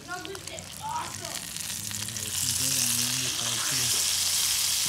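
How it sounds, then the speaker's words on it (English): A rainbow trout fillet fries in a pan with a steady close sizzle and crackle that grows louder toward the end, while people talk over it. "So we're letting it sizzle a little bit, cook some more"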